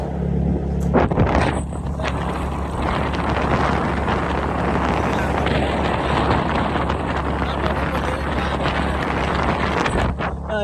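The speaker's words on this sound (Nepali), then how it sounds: "यता फेरि गाडी आइरहेको छ अर्को" A vehicle passes on a road while riding a scooter, its rumble blending with heavy, continuous wind buffeting on the microphone throughout.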